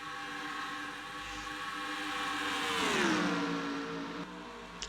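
Race cars in a Craftsman Cup Series qualifying session at Michigan drone past in a dense pack, a layered engine whine that swells and drops in pitch as they pass, with no talk.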